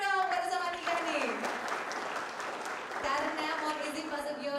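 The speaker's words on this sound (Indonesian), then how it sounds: "tepuk tangan dong, baru sama Tika nih." Students and teachers at a high school in Palembang applaud, a brief patter of clapping mixed with cheering and voices while someone talks over it.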